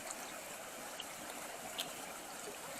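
Rainwater from three days of rain flows out back past stacked boulders, a steady, faint trickling and gurgling stream heard alone at a distance.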